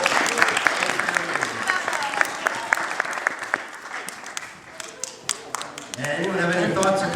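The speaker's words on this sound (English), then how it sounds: "Let's give a round of applause to all the volunteers." A Unitarian Universalist gathering claps for the volunteers, with individual sharp claps standing out over a crowd's applause and talk mixed in. The clapping thins in the middle, then swells again as voices continue.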